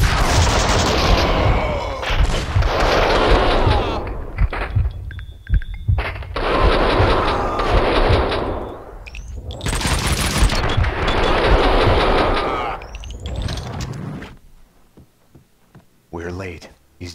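Loud bursts of gunfire from the video game Max Payne 2 come in sustained volleys separated by short gaps, with game voices talking between and over the shots and a quieter stretch near the end.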